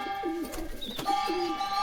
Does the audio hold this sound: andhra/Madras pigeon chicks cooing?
yes